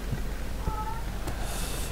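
A house cat gives a single faint, brief meow against a constant background hiss, with no voices.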